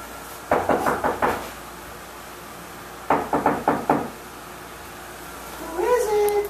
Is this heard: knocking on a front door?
yes